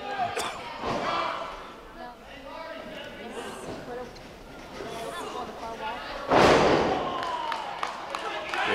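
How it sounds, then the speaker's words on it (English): A wrestler's front slam hits the ring mat with one heavy thud near the end, heard over a commentator talking and a faint crowd. "Big front slam by Matthews."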